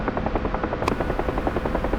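A UH-1H Huey helicopter in the DCS flight simulator game flies with a steady, rapid rotor thump and a continuous engine drone throughout.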